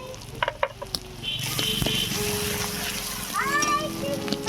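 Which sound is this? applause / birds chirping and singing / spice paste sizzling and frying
spice paste sizzling and frying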